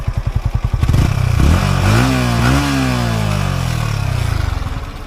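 A Yamaha R15 motorcycle engine with a slight noise after 13000 km: idle thumps give way to a rising rev and then a sustained mid-pitched drone with faint mechanical clatter, loud and close.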